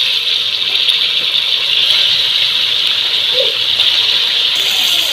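Chicken pieces going into a karahi on a gas cylinder burner give a steady, loud sizzling hiss that holds evenly throughout with no talk.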